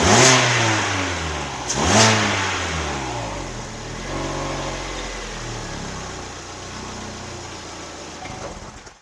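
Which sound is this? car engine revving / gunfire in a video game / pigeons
car engine revving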